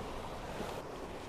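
Sea waves wash against the Muara Baru sea wall in Jakarta, a brief steady surging hiss mixed with wind buffeting, loud and even.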